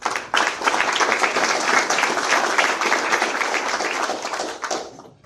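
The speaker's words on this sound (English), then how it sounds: "How about a round of applause?" Crowd at a Dunedin candidate forum at a restaurant giving the host a round of applause, dense sustained clapping that starts abruptly and fades out near the end.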